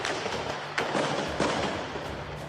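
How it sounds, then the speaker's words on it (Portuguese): An intense exchange of gunfire between police and drug traffickers in the Fazendinha neighbourhood of Rio, with several loud, sharp bursts cracking and echoing over continuous rough background noise. "registraram a intensa troca de tiros entre os policiais"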